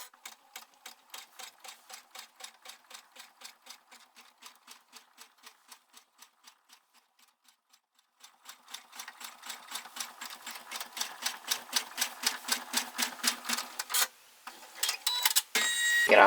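A sewing machine runs basting stitches through fabric for applique, a rapid steady mechanical clatter that starts faint, pauses, then grows louder and faster before stopping near the end.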